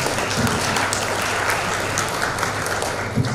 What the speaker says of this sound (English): please give applause, big applause to the three panelists